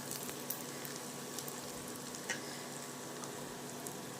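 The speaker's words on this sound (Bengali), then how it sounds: "এখানে পোলাওয়ের চালটা ভেজে নিচ্ছি।" Polao rice frying in a pan for tehari, a faint, steady sizzle with occasional light stirring clicks.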